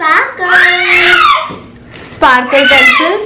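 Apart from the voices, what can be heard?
child screaming loudly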